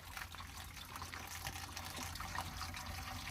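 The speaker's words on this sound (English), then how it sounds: "that's draining out her black oil" Black oil draining out of a Ford 8830 Powershift tractor during a service, a steady close trickling and splashing pour with a constant rushing wash, running alone without talk.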